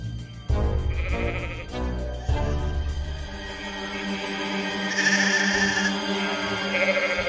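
Young goats in an animated children's story bleat several times in short, wavering calls, fairly close and clear over light background music, with no talking.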